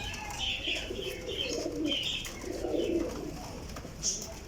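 Indian Lakha pigeons cooing softly, several low rolling coos repeated at moderate distance, with faint chirps and light background noise.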